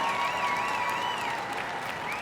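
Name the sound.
Westminster Dog Show crowd cheering and applauding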